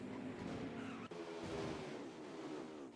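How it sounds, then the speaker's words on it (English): Race cars in an oval racing video game wreck and skid, a dense continuous roar of engines with tire squeal and scraping through the whole stretch, loud and without talk. "Oh, big wreck in the back."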